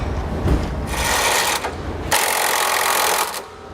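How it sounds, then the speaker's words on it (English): A nut on a Roadmaster rear anti-sway bar for a 2012 Mercedes-Benz is tightened with a 19mm socket and wrench, giving loud, close bursts of rapid ratcheting and grinding with short breaks between them. "Thread the nut on the other side and tighten it down with a 19mm socket and wrench."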